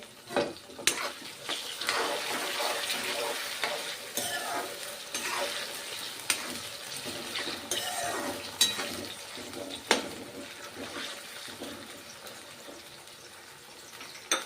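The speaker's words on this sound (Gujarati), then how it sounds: "બટેકા આપણે કાચા લીધેલા છે એટલે તેલમાં એડ કરીશું" Raw potatoes frying in hot oil for a Gujarati brinjal, potato and tomato curry, a steady broadband sizzle with occasional stirring scrapes and clicks throughout, close and moderately loud, no talk.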